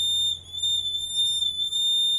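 A piezo buzzer on a smart blind stick obstacle sensor sounding a steady high-pitched tone, held continuously and loud, with a slight dip in the middle and no talk.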